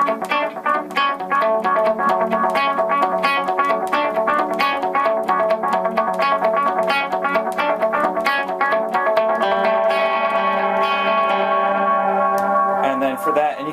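Electric guitar riff from a new album played through a pedalboard, dense picked notes smeared by modulated delay repeats and reverb, steady and loud throughout with a brighter, higher passage near the end; no talking.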